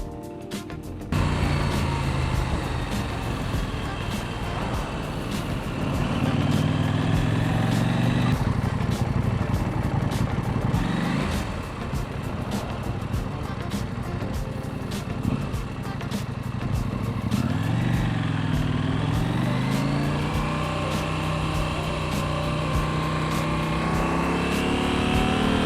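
A KTM 790 Adventure motorcycle rides along a road in Cornwall with a steady, loud engine drone and wind rush, the revs rising and falling as it accelerates and shifts through gears.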